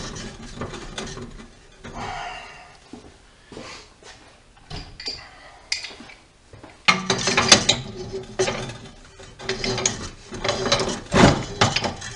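A metal fitting is screwed into the bottom of a brake drum forge ash pit, giving bursts of clicking, ratcheting and scraping metal contacts with short pauses between, growing louder in the second half.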